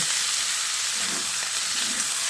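Chicken fries with onion, ginger and garlic in a pan over a high gas flame, giving a constant loud sizzle and hiss with a few soft stirring knocks.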